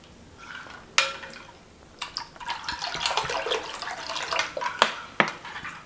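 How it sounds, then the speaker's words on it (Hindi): Water poured into a mango panna drink in a kitchen, splashing and trickling in uneven bursts with a few sharper clinks, close and fairly quiet. "थोड़ा सा हम और इसमें पानी डालेंगे"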